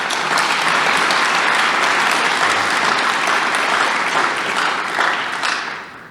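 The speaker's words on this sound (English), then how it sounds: "So my friend, Vlok, I would like all of you to give him a big applause as he's..." Sustained audience applause fills an interview event on reconciliation, a dense steady roar of many hands clapping throughout that tapers slightly at the end, with no talk over it.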